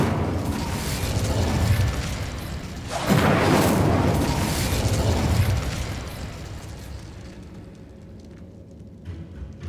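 An Incendio fire spell bursts in Hogwarts Legacy: steady rumbling noise, then a sudden, louder fiery whoosh that swells for a few seconds before fading into a quieter tail.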